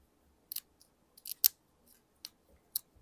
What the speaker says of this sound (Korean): 요 부분도 끝쪽 부분 잘 정리해서 마저 10cm를 잘라줍니다